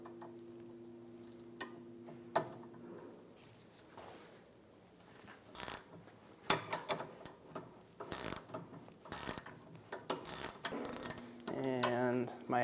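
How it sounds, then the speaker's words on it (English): Wrench turning the nut off the rear sway bar link stud on a 2013-2017 Honda Accord, with a hex key holding the stud: quiet, irregular metallic clicks and ratcheting ticks up close, with a few sharper taps near the end. "I'll use a 14mm wrench to take the nut off."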